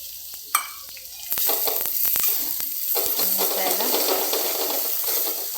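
Turmeric and black masala sauté in oil in a pan, a soft start with a sharp tap, then a steady close sizzle and hiss with intermittent stirring scrapes.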